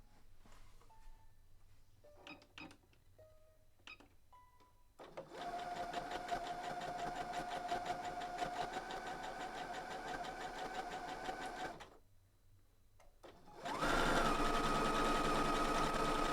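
A home sewing machine stitches a dress in steady mechanical runs, starting after a few soft clicks, stopping briefly, then restarting louder and faster toward the end.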